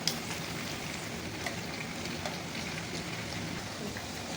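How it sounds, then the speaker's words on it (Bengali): Chicken pieces for chilli chicken frying in oil, giving a continuous even sizzle and hiss with a couple of small pops, close and steady with no voices. "এবার এগুলোকে ভালো করে একটু ভেজে নিতে হবে।"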